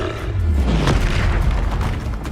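Explosive Confringo spell blast from the Hogwarts Legacy video game, a loud booming burst with a deep rumbling tail that stays dense and sustained for a couple of seconds.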